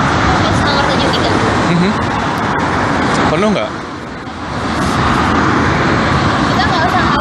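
A city bus, route 73, pulls up at a stop in Japan with a steady engine rumble and road noise, under close conversational voices; the engine sound dips briefly midway, then the low drone resumes.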